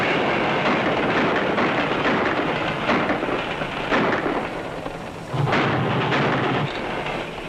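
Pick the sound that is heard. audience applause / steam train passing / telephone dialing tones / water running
steam train passing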